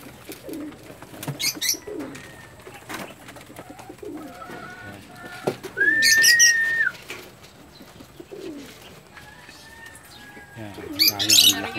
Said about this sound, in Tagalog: Nakulungan ni Justin ng kanyang ibon